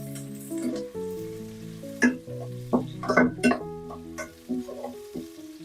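Onions and curry leaves frying in a pan for a South Indian ridge gourd curry, a close sizzle broken by sharp spatters and utensil knocks, with a voice faintly heard underneath.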